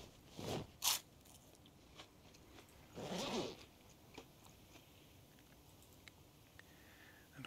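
Crisps being eaten in Project Zomboid, a few short crunchy bursts of bag rustle and chewing spaced across a quiet stretch, close and fairly soft with no talk.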